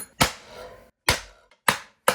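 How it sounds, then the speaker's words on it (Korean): Four sharp hammer blows knock bearings out of a custom motorcycle swingarm's bearing housing, each a loud metallic strike with a brief ringing decay, spaced unevenly and close up with no talk. "그리고 첫 번째 시도했던 방법대로 망치질을 해줍니다."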